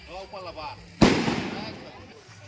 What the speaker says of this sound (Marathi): स्टाईल बघा त्यांची फटाके फोडण्याची